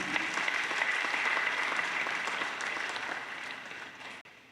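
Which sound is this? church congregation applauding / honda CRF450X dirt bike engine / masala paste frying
church congregation applauding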